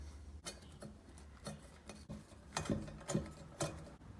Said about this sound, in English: take your bolts for it and thread them in through the back.